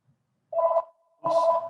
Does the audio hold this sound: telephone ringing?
yes